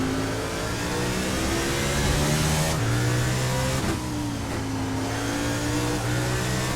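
A NASCAR race car engine in the iRacing sim at Road America revs hard, then drops pitch on a quick upshift from third to fourth before climbing again, loud and steady with no talk.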